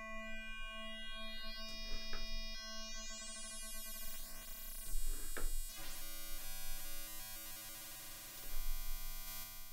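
A synthesized sine wave run through a wavefolder grows steadily brighter and buzzier as harmonics pile up, with sweeping, chirping overtones and shifting metallic textures.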